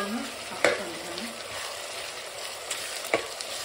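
Tomatoes frying in a pan for vegetable biryani, a soft, steady sizzle close by with a couple of sharp stirring clatters from a spoon against the pan.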